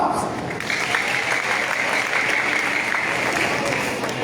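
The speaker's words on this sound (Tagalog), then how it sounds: "Palakpak." A church congregation applauds steadily and loudly at an outreach station worship service. The dense, even clapping lasts the whole stretch without a break.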